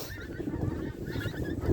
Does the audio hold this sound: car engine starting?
no